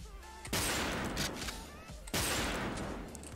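Two heavy bursts of rapid video game gunfire from a Turkish mobile shooter match, each kicking in abruptly and loud, filling the clip with dense crackling volleys, with a faint synthetic tone beforehand.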